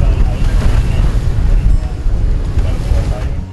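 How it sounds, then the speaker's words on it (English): A Seawind 1260 catamaran motors into short chop in 25 knots of wind, giving a constant loud rumble of wind buffeting and water slapping the hull, steady throughout with no clear voices. "motoring into this short chop and 25 knots of wind was its own kind of test"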